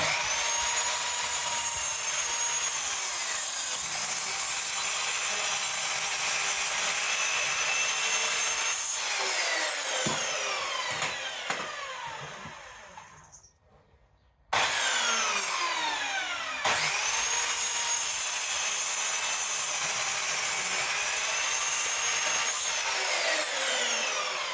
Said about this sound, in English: we're gonna cut the wood down